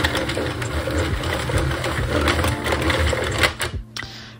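A Sentro circular knitting machine being cranked back and forth, giving a steady, busy mechanical whirring and clattering that runs close and continuous before stopping abruptly near the end.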